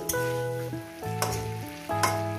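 Cauliflower and potato curry with katla fish head sizzles in a pan on the stove, a steady close-up frying hiss that swells slightly at regular intervals, with no talking.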